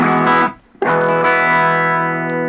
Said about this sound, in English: we're gonna switch to the crunch or distortion channel in this tiny amp